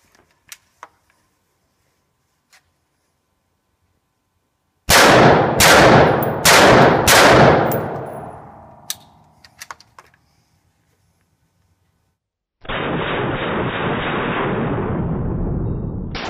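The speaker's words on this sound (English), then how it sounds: "Here at Top Gun, we use an M16 on Osama." An M16 rifle fires four loud, sharp cracks in quick succession, each with a ringing decay, after a quiet stretch. Steady broadband noise follows several seconds later.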